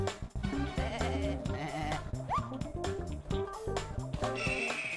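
Sheep bleat within the Looney Tunes: Sheep Raider video game, several short wavering cries amid busy game music and sound effects, fairly close and moderately loud.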